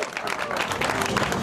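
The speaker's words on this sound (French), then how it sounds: "Les applaudissements, s'il vous plaît." An audience claps for riders at a mountain bike race podium, a dense, continuous patter of many hands that stays lively and fairly near for the whole short stretch, with voices mixed in.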